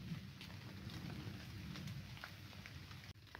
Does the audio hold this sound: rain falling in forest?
yes